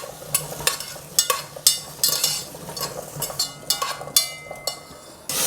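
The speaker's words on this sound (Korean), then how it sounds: "토란만 먼저 볶을게요." Taro pieces are stir-fried in perilla oil in a pot, with a crackling sizzle broken by repeated sharp utensil scrapes and tosses in an irregular rhythm. The sound is close and alone, with no talking.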